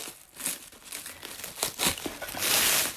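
Crinkling plastic wrap is handled and torn open on individually wrapped items from a parcel, giving close, irregular rustles and crackles that grow louder near the end.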